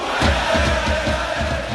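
A large crowd of football ultras at an Amsterdam FC match roars and chants in unison, a dense, loud wall of voices with rhythmic surges.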